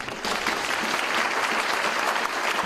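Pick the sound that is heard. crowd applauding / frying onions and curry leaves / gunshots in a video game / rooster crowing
crowd applauding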